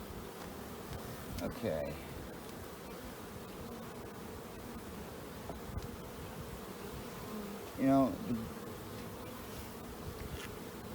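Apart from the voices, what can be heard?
honey bees buzzing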